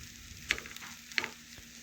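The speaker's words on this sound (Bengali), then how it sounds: "বেশ কিছুক্ষণ ধরে 2 থেকে 3 মিনিট ধরে নাড়াচাড়া করে আমি মিশিয়ে নেব" Kashmiri pulao being stirred in a pan, quiet sizzling under two distinct scraping strokes of the spoon about a second apart, close up with no talking.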